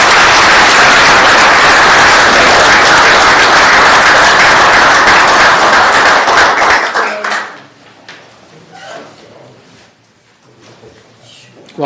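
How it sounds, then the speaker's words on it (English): Loud, dense applause from a room at a board meeting, sustained for about seven seconds before cutting off, followed by quieter moments with faint talk. "A round of applause."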